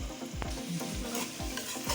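Fried rice stirred in a pan with salt, garlic, ginger powder and curry, a utensil scraping in repeated strokes over a steady close sizzle, no voices.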